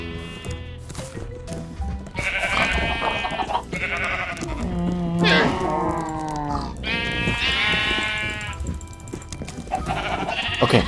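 Repeated sheep bleats in a video game, several overlapping calls in a row, loud and close, with soft background noise in between.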